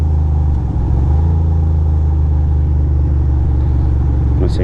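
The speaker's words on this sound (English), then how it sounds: "I guess this is the traffic that" City traffic in the Bronx near the George Washington Bridge, heard from a Ducati motorcycle on a winter ride: a steady, loud low engine rumble and road drone with no talk.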